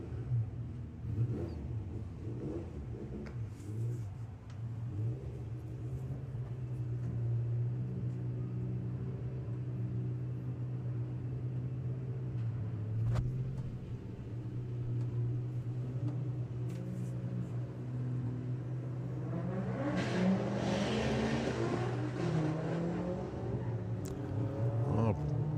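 A drag racing car runs down the strip at Santa Pod Raceway, its engine a steady distant rumble that swells louder near the end, under continuous commentator talk.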